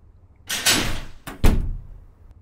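In the video game Ao Oni 2, a broken door is tried and won't open: two sharp rattling bangs about a second apart, loud and close, with no talk over them.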